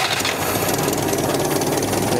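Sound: 1965 Datsun 320 engine firing up and idling

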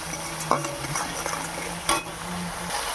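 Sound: spice paste being stirred and fried in a pan

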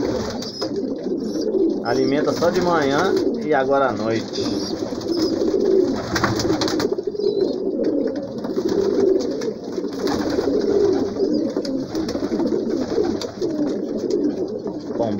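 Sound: pigeons cooing in a loft

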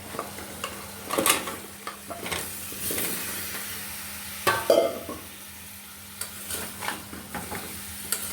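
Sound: sweet pumpkin added to frying spices and stirred

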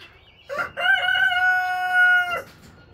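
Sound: Rhode Island Red rooster crowing

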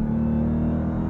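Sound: Dodge Durango SRT Hellcat engine

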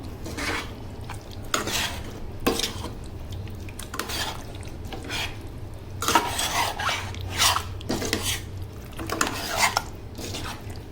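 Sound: stirring tapioca (kappa) into meat masala in a pot

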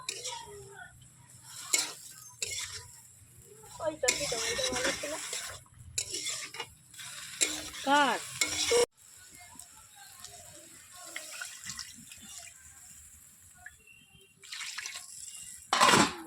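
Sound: stirring fish curry spices with turmeric in a pan

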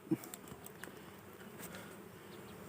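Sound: dwarf honey bees swarming from their nest

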